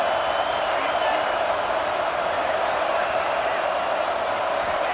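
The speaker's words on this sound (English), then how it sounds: "Wow, listen to this crowd noise. This stadium is vibrating." A steady, loud wall of stadium crowd noise from a college football video game, Ohio State against Texas, droning continuously without pauses or distinct cheers.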